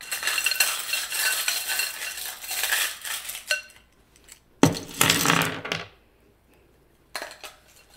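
Small metal oracle charms are shuffled and jingled together, clinking in busy rattling bursts separated by short pauses, fairly close and with no voices.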